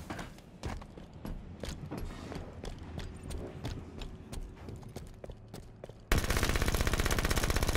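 Rapid gunfire from a Halo 5 multiplayer match, with sharp repeated shots throughout that give way to a dense, steady burst of automatic fire near the end, loud and close.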